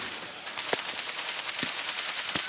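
Gunfire in the zombie shooter World War Z, a few sharp shots standing out over a dense, constant roar of game noise and battle chaos.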